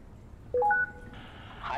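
A phone call connects in the horror video game Perception: three quick, clear dial tones step upward in pitch, then give way to a soft hiss of line noise.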